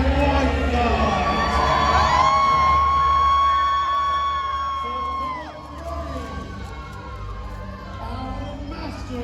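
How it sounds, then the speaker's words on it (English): A big arena audience at a Medieval Times jousting show cheers and whoops loudly, swelling for several seconds and then easing back to a lower roar, with an announcer's amplified voice ringing over the crowd. "Here's a cheer, my friends"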